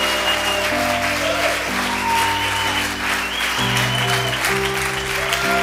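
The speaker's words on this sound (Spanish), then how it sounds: "Dele al Señor el más fuerte aplauso que usted le pueda dar." A church congregation applauds continuously as sustained organ or keyboard chords play loudly underneath, the clapping steady and dense throughout.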